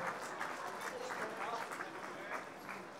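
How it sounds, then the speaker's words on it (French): Audience applause at the WAC 2019 opening ceremony, welcoming the Irish team onto the stage: sustained clapping at a steady, moderate level throughout, with a faint voice over it. "on peut les applaudir, on peut les accueillir bien fort"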